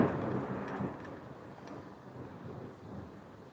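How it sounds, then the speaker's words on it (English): Low distant rumble of thunder during a heavy thunderstorm, strongest at the start and then fading into a soft, sustained roll with light background noise. "We got a pretty bad thunderstorm right now, so you're gonna hear some thunder and lightning in the background for sure."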